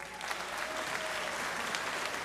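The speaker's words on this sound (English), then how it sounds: "we need to give her a round of applause" Graduation audience applauding a school principal, a steady dense wash of clapping from a large crowd filling the whole stretch at moderate level.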